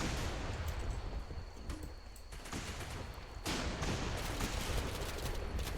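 Mortar fire and other weapons in the video game Running With Rifles, a dense, continuous barrage of battlefield gunfire and blasts that briefly thins near the middle before surging loudly again.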